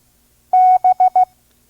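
The Morse letter B sounds as one long tone and three short beeps, a steady, pure pitch keyed crisply and close up with no voice over it, taken from a vintage ARRL code course sent at five words per minute.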